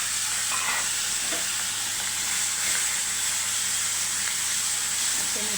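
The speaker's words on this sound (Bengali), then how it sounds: "তেলটা গরম হয়ে গেছে। জিরা দিয়ে দিলাম। তারপরে চিংড়ি আছে, এটা চিংড়ি দিয়ে দিলাম" Prawns and cumin seeds fry in hot oil for a doi chingri dish, giving a steady, close broadband sizzle and hiss that runs throughout with no talk over it.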